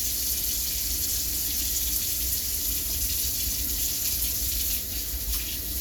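A faucet runs steadily into a sink as hands are washed after handling meat, a continuous close hiss of flowing water that changes slightly near the end.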